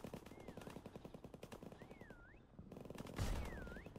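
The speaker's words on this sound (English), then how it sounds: "Oh, he's shooting yellow barrels." Rapid machine-gun fire from a WWII-themed Prophunt video game chatters in continuous bursts at moderate distance, joined by a louder nearby volley. A rising-and-falling whistle recurs through the firing.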